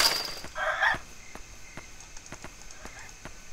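Chickens in a coop in the Yomawari: Night Alone video game, heard as a brief loud burst of clucking and squawks at the start followed by a series of sharp, evenly spaced taps or steps over quiet background.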